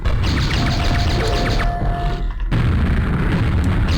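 Rapid-firing sniper rifle in a video game, a weaker relative of the Thunderbolt that burns through its ammo, lets off a loud, dense barrage of booming shots that breaks for a moment and then resumes at full force.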